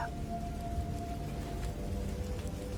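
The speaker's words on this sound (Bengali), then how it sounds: "বাইরে বৃষ্টি পড়ছে অনেক সময় ধরে" Steady rain falling during a nighttime storm, a continuous dense hiss of drops on surfaces with no pauses and no voices.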